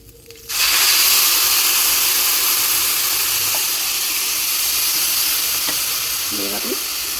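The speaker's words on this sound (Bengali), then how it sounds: "আমি এই বাটির এখন 4 বাটি জল দেবো।" Water poured into a hot pan of rice cooked with spices, bursting into a loud, steady sizzling hiss that holds for several seconds at close range, with a faint voice briefly near the end.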